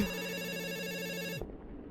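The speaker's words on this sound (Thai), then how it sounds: "รับโทรศัพท์ก่อน" A telephone bell rings steadily in a horror video game, a single sustained ring that cuts off abruptly, followed by a faint thud and low room noise.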